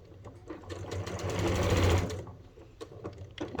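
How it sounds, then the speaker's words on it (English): A sewing machine stitches a back stitch on a fabric bucket hat, its motor whirring in a steady rapid rhythm that swells in the middle, then slows to a few isolated needle clicks near the end. "So I'm gonna stop right here and do a back stitch."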